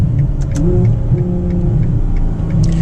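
Ferrari 812 Superfast with a 6.5-liter naturally aspirated V12, heard from inside while driving, giving a steady loud engine drone and road rumble with slight rises in pitch.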